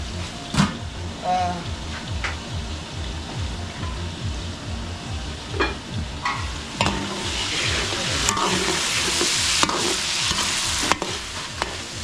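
Pork belly sizzling and being stirred in a pan with garlic and onion, a loud steady fry with repeated scraping stir strokes, close up and continuous.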